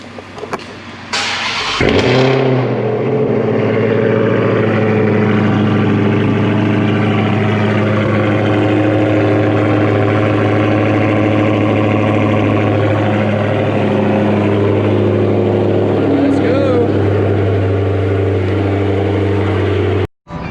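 A Dodge Charger Hellcat engine fires up with a sharp crank and roar, then settles into a steady, loud, deep idle as it warms up on a cold start, continuing unchanged for nearly twenty seconds.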